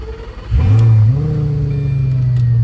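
A Lamborghini engine cranks and fires at about half a second, flaring into a loud rev, then settling into a steady, deep, rumbling idle close by with no talk over it.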